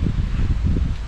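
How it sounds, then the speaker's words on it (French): Strong wind gusting around a Ferrino Flow 4 tent pitched outdoors in Newfoundland, a dense, pulsing low rumble of buffeting air against the mic that fills the whole moment without voices. "là c'est juste qu'il y a beaucoup de vent"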